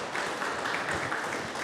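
Crowd applause at a women's football club squad presentation, welcoming a player onto the stage; a steady wash of clapping lasting the whole moment, fairly even in level with no voices standing out.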